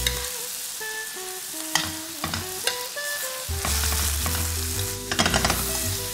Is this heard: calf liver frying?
yes